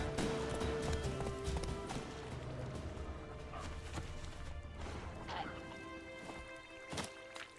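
Horse hooves clip-clop with steady clattering through the whole clip while the horse is urged on, with sharp knocks and some background noise layered in.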